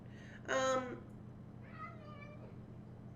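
A cat gives one clear, close meow, followed by a quieter, drawn-out second meow against a low background hum.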